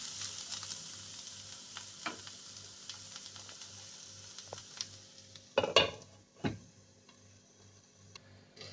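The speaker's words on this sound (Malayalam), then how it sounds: "ഇട്ട് നന്നായി മിക്സ് ചെയ്ത് ലോ ഫ്ലെയിമിൽ അടച്ച് വെച്ച് വേവിക്കണം" Bitter gourd fries in a pan on a home stove for a Kerala thoran, with a soft continuous sizzle under a steady ticking, then a few louder scrapes and clatters as it is stirred.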